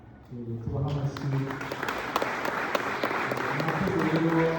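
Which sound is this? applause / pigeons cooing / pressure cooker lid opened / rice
applause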